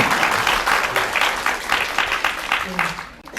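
An indoor audience at a book talk claps in sustained, dense applause for about three seconds, many hands together at an even, lively level.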